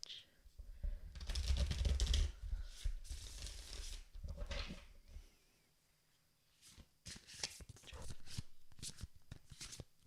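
A tarot card deck being shuffled up close: soft riffling and flapping bursts come in several passes separated by quiet pauses, with light card taps between them.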